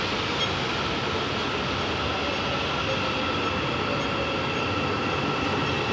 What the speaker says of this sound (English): I think this is our train right here.